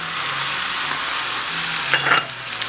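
Ground coriander, cumin, Aleppo pepper, turmeric and paprika sizzling in hot oil in a pan for chicken korma, a constant close crackle with a short burst of stirring near the end.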